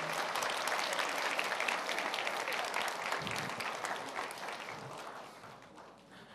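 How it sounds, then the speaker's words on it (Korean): A church congregation applauds graduates of a 22nd-term intercessory prayer school, warm continuous clapping that starts full and gradually fades toward the end, with no talking over it. "다시 한번 큰 박수로 22기 중보기도학교 수료하시는 분들을 축하하겠습니다."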